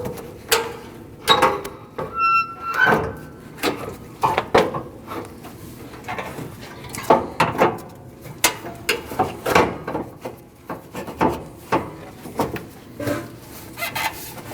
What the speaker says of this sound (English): Now we can install our top radiator support.